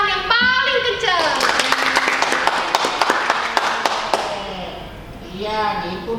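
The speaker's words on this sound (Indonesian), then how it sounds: "yuk kita kasih tepuk tangan yang paling kencang" Children in a Sunday school class give applause as a run of steady, evenly spaced claps in the middle, with a voice speaking before and after.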